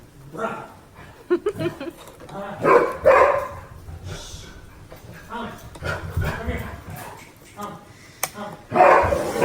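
An excited dog barks repeatedly at home in loud, close bursts, mixed with whimpers, while people talk over and between the barks.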